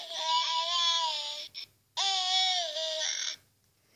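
A toy baby doll plays an electronic crying sound, two loud wailing synthetic cries close up, separated by a brief pause, with a short blip between them and a quiet end.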